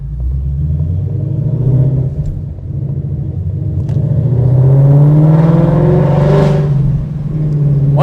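A Mustang's engine rumbles steadily and loudly up close, swelling into a deeper rev partway through before settling back to a throaty idle.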